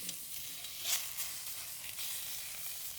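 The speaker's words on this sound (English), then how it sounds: "from what I hear, it sounds like we need to check on our sausage." Sausages sizzle steadily in a hot pan over a fire, a soft continuous crackle with a few brief pops.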